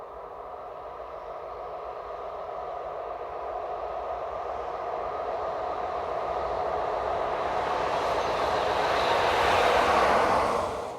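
Locomotive 14870 approaches on its way to Osnabrück, a steady rail rumble and hiss building gradually louder as it nears, then fading slightly at the very end.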